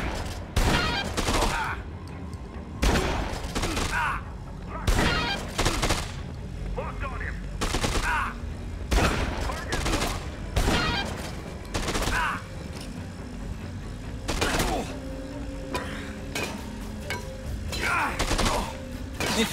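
Repeated bursts of rapid gunfire in the video game Dead Rising 2, sharp and loud, crackle through a busy game soundscape, with mechanical clanks and brief background voices.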